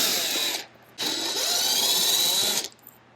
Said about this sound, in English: So I'll take these screws out, back this one out a little bit